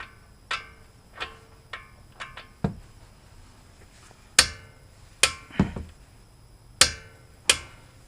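A torque wrench tightens a caliper bolt to 80 foot-pounds on a 2020 Toyota Camry, giving about nine sharp, loud clicks at irregular intervals with no talking.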